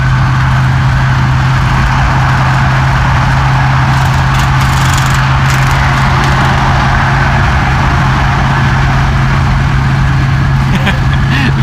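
A V8 car engine runs steadily and loudly, with a constant low hum and drone that holds without a break throughout.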